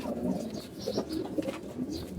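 Pigeons in a home loft coo in low, throaty, repeated calls, several birds close by under a steady background hum, with no talk.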